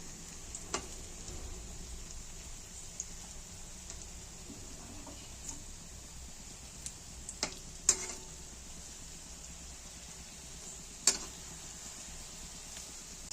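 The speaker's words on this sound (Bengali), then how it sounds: "কোফতাগুলো একদম সুন্দর করে ভাজা হয়ে গেছে, আমাদের আরেকটু ভাজতে হবে" Raw-banana kofta balls fry in hot oil, giving a faint, steady hiss that runs throughout. A few isolated small ticks and pops break through now and then.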